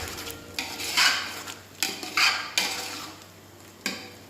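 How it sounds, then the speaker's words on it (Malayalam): Prawn masala for an Arabian prawn biryani is stirred in a pan after a tablespoon of garam masala goes in, giving repeated close spoon scrapes and knocks against metal over a light sizzle. "ഇതിലേക്ക് ഒരു ടേബിൾ സ്പൂൺ ഗരം മസാല കൂടി ചേർത്ത് കൊടുക്കുന്നുണ്ട് അപ്പോൾ ഇതൊന്ന് ഇളക്കി വരട്ടെ"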